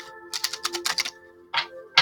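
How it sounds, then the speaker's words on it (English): A deck of tarot cards being shuffled by hand in quick riffling bursts, a dense cluster of crisp flutters followed after a pause by two short separate riffles, close and fairly loud with no talking. "we're going to do a little bit of a shuffle here"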